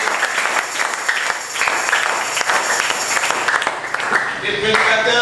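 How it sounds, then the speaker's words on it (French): A church congregation applauds during a sermon, a sustained wash of clapping with crowd voices mixed in, fading slightly near the end. "applaudissez le Seigneur pour le prendre"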